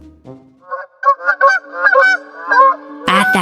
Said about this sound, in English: a big white goose named Martin was flying away with the wild geese